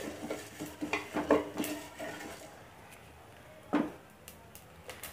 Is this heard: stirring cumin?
yes